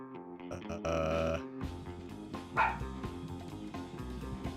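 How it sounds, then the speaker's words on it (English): A dog barks in a Cowboy Bebop video game, with a few short yaps standing out over steady game music and effects. "I like how Ein can just travel by barking."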